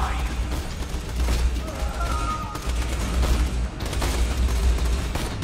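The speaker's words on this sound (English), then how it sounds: "I'm clearly shooting him in the face" Sustained bursts of gunfire in Borderlands 2, loud, repeated volleys across the whole stretch, with a few sharp impacts mixed in.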